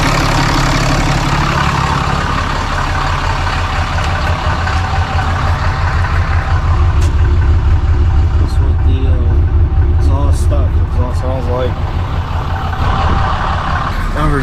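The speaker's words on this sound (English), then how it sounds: "It's in Lope idle tune right now." Ram 2500 diesel truck idling with a lope idle tune, a steady loud low rumble with an uneven choppy pulse throughout, heard close up while people talk over it.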